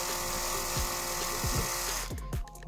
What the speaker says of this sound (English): So you want to just go ahead and drill it in.